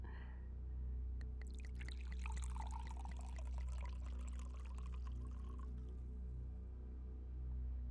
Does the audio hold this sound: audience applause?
no